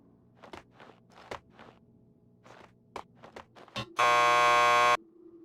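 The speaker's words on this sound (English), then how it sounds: "Just press the buzzer by the door." In the video game Max Payne 2, footsteps tap across a quiet room before a door buzzer sounds, one loud, harsh electronic buzz lasting about a second.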